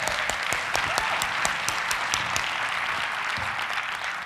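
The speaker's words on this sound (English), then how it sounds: "Let's give them a round of applause." Audience applause at an evening gathering of a prison-reform movement event, dense steady clapping throughout, loud and sustained without pause.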